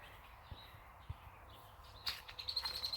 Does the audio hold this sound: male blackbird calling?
yes